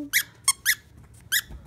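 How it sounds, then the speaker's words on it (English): A squeaky toy, unboxed with a reborn baby doll and lovey, squeaks four times in short sharp bursts, close and clear with no voices over it. "It's a squeaky toy."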